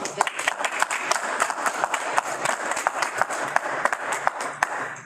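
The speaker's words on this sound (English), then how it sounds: "I would entertain like a small round of applause" A small, sparse audience claps at the close of a student association vice-presidential debate, with scattered individual claps in an uneven patter that holds steadily for about five seconds.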